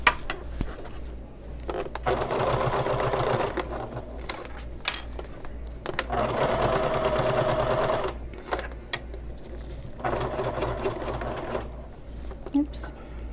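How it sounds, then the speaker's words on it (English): A sewing machine stitches a seam on a convertible bag in several bursts of rapid, close mechanical clatter separated by short pauses, while a person talks between and over the runs. "my machine skipped a stitch there"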